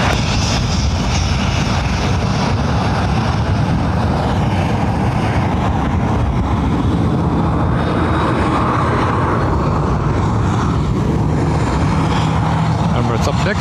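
An Emirates airliner lands in high wind at Dublin Airport on runway 28 left, a broad steady engine roar sustained throughout, with voices faintly present under the noise.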